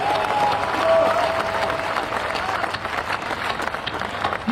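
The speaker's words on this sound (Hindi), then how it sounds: "दोनों हाथ उठाकर इस पर तालियां बनी।" A large audience at a Kumar Vishwas event in Sikar claps with hands raised, producing loud, sustained applause mixed with some cheering from the crowd.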